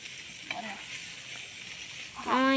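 Food roasting in a hot pan with a dosa ladle gives a steady hiss, with a light scrape near the start and a louder clatter of the ladle at the end.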